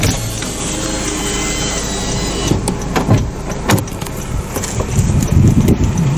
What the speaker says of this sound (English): Roll down the driver's side window.